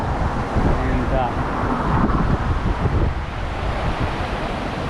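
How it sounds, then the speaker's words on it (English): Ocean surf washing steadily onto a beach at Mazatlan, Mexico, a continuous broadband roar with some wind buffeting the microphone and faint traffic behind it. "Probably the waves are too strong."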